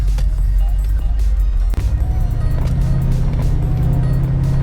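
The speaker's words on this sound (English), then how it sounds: "You might hear a little bit of a louder hum whenever I'm actually trying to go." Steady low engine hum from inside a moving 1991 Chevrolet C4 Corvette, swelling slightly louder as it accelerates, with faint wind noise over it and no exhaust rumble.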